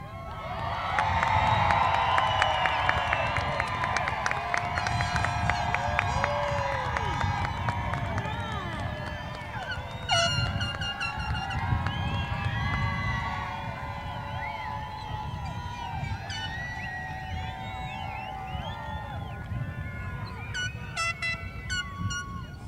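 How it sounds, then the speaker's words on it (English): A large graduation crowd cheers, screams and claps together in a sustained roar, with whoops, air-horn toots and voices rising and falling across a long, dense stretch of noise. "Shout, cheer, clap, scream."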